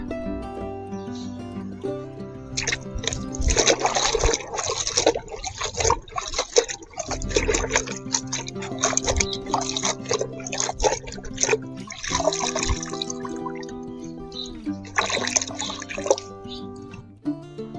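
Pui greens are swished and rinsed in water to wash off sand, close and fairly loud, with splashing and trickling in uneven bursts and steady music underneath.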